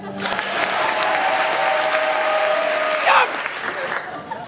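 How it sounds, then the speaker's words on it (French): Audience applause at an improv festival in France: dense, sustained clapping filling the room for several seconds, with a voice speaking over it and a brief swell before it thins out at the end. "Applaudissez-le."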